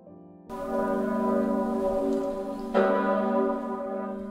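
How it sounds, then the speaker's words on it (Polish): Large Sigismund Bell in Kraków tolls with a deep, resonant hum rich in sustained overtones, a second strike landing midway and ringing on; loud and alone without voices. "Zadzwonił dzwon Zygmunta"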